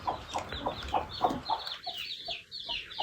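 A hen clucks repeatedly in a rhythmic series of close, short calls while moving among her few chicks, with faint chick peeps mixed in.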